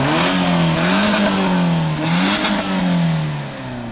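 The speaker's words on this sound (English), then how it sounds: "Give us a rev." The engine of a BMW E30 car revs loudly and close, its pitch swelling and falling in repeated throttle blips over a rough, continuous idle.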